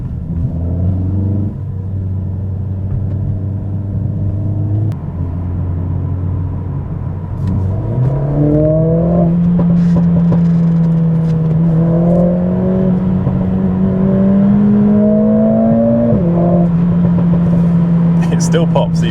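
A Mercedes CLA45 AMG engine with an aftermarket exhaust drones at low revs, then climbs and holds a higher rev, with occasional crackles and pops; a voice talks over it throughout.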